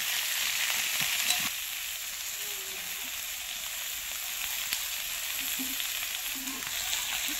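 Potatoes and carrots frying in oil, a steady bright sizzle with a few faint stirring knocks, close and continuous with no talking.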